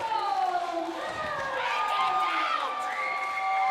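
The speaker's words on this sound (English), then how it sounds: "And the crowd goes banana." A crowd cheering and shouting after a women's tag-team wrestling win, lively and roaring, with an announcer talking excitedly over it the whole time.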